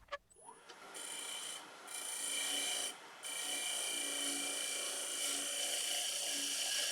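A half inch spindle gouge takes a light cut on laburnum wood spinning on a lathe, a close, continuous scraping hiss with a short pause, over the steady hum of the machine.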